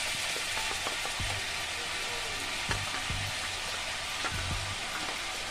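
Onion paste goes into hot oil for a fish roe fritter curry, producing a steady, dense sizzle throughout, punctuated by occasional light clinks and stirring knocks in the pan.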